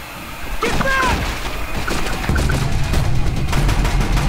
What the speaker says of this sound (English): Machine gun, man.